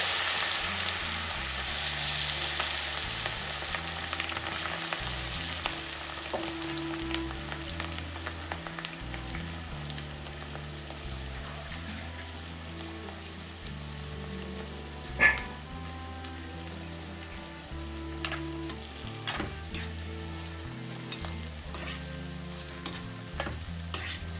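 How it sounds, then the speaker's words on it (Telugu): Chopped ivy gourd pieces deep frying in hot oil, a steady dense sizzle and crackle throughout, close and continuous with an occasional louder pop. "వీటిని ఆయిల్లో డీప్ ఫ్రై చేసుకోవాలండి"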